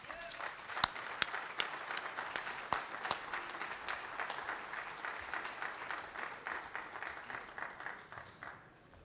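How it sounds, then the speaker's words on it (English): An audience gives a sustained round of applause to welcome speaker David Morgan, dense clapping with a few sharper claps standing out, fairly distant and steady before fading slightly at the end. "Will you please give a big round of applause to David Morgan?"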